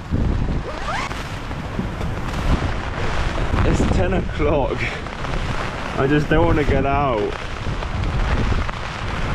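Dense, steady downpour hissing throughout, with a person speaking over it near the middle.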